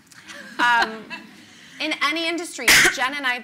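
A sneeze bursts out once, loud and sharp, in the middle of a conversation at a live talk event, with speech before and after it.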